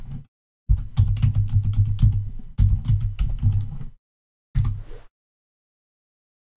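Fingers type on a MacBook keyboard in three quick bursts of clicking keystrokes, the last one short, separated by brief silences.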